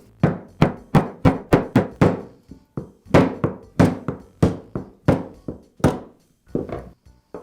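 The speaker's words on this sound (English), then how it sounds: "I'll tap the armature gear out of the rear gear housing" Sharp metal taps knock an armature gear out of the rear gear housing of a DeWALT drill during a bearing repair, a close, loud run of about twenty hammer blows in uneven bursts with brief pauses, no voices.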